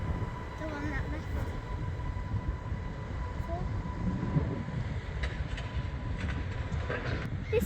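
Island Line train number 484005 passes at Ryde on the Isle of Wight, a continuous low rumble of rolling wheels with a faint steady tone above it, close and fairly loud, while someone talks over it.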